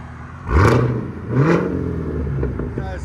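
Two sharp revs from a Cadillac CT5-V Blackwing with straight pipes, each a loud rising blare that falls back to a rumbling idle, close by.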